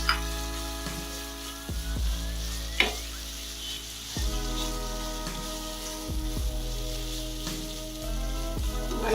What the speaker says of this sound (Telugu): ఆనియన్స్ ఇలా ఫ్రై చేసుకోవాలి.